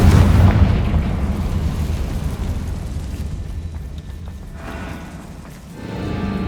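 Confringo fire spell from Hogwarts Legacy bursting in a loud booming explosion at the start, its rumble slowly fading over several seconds before another swell near the end.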